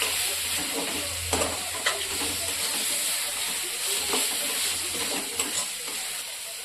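Marinated mushrooms stir-fried in a pan for a spiced yogurt masala dish give off a steady, close sizzle, with spoon scrapes and stirring knocks breaking through now and then.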